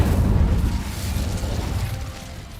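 A fiery Incendio spell blast in Hogwarts Legacy roars as a loud, rumbling burst that gradually thins out over a couple of seconds, with no talking over it.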